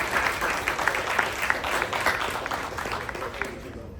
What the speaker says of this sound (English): Guys, give Chase one more round of applause.